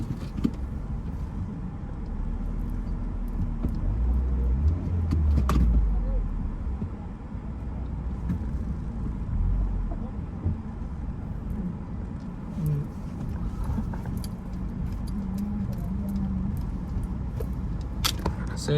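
A motorcycle tricycle engine labouring on a rough, difficult road, a continuous low rumbling drone with a few rattles and bumps, heard close under scattered talk.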